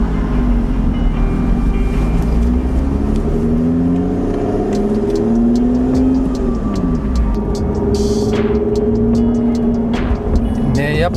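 A Lotus Evora GT410 sports car in sport mode pulls away, its engine loud and close as it revs and rises through the gears with repeated pitch sweeps, and short clicks and thumps come in near the end.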